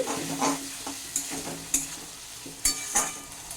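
Poppy seed paste being stirred and fried with ridge gourd and potato in a pan, a close steady sizzle broken by repeated scraping strokes and spatula knocks against the metal, with no talking.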